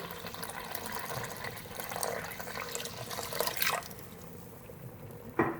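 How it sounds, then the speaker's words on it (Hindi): Water poured from a vessel into beef paya gravy in a cooking pot, a soft gurgling trickle followed by a brief splash and clink near the end. "थोड़ा सा और पानी शामिल करेंगे क्योंकि मेरी ग्रेवी ज़्यादा चाहिए"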